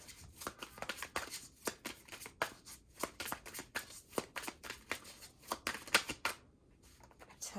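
A deck of tarot cards shuffled up close, a brisk run of sharp papery flicks and slaps in an uneven rhythm, with a short pause near the end and no voices.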